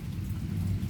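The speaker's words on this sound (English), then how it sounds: "it is raining really bad" Heavy rain pours steadily and close by, a dense low roar of drops with faint rumbling beneath, continuous and unbroken for the whole moment with no voices.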